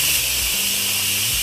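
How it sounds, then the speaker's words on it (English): An Instant Pot releases pressure through its quick vent in a loud, steady, close hiss of steam that fills the whole stretch with no talking. "We're not doing a slow vent, we're doing a quick vent."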